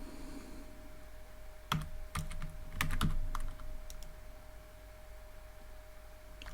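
Short flurry of close computer keyboard keystrokes as code is entered, a handful of crisp clicks in quick succession followed by quiet with a faint steady hum.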